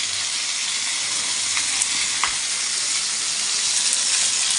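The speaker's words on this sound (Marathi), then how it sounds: "बघू शकता तुम्ही मस्तपैकी फ्राय व्हायला लागले, मसाला वगैरे वाटून छानपैकी" Bangda mackerel frying in a pan coated with ground masala gives a loud, steady, close sizzle that holds evenly throughout, with no voices.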